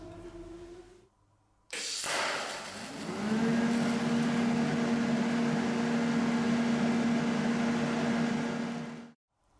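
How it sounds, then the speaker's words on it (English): TIG welding a seam at 40 amps with no filler wire, a steady buzzing hum with a constant tonal whine that holds for several seconds after a sharp start, then cuts off abruptly. "I'm just going to try to weld that seam"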